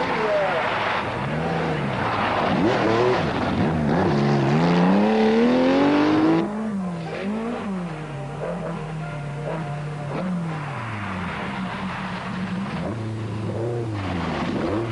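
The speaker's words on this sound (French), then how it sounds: "Dumont reste en forme, mais Duet apprend bien vite comment piloter une Quattro." An Audi Quattro rally car at the 1983 Boucles de Spa, its engine rising and falling in pitch as it accelerates and shifts, loud and close at first, then more distant, with a commentator talking over it.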